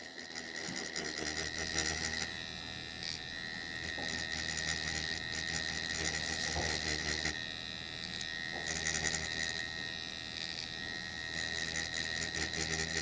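Permanent makeup machine buzzing steadily during fast, light powder brow shading on latex practice skin, a close, continuous mechanical whir with slight ratcheting variations throughout.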